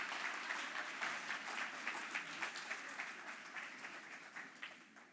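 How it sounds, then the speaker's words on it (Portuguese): An audience at a church celebration service applauds actors brought up on stage, a steady wash of clapping with scattered louder claps, sustained throughout at moderate distance. "Vamos aplaudir esses atores da Record."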